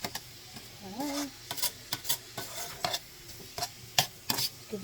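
Vegetables stirred in an oiled pan for an Ital stew with cabbage: close scraping and clattering strokes over a light sizzle of frying.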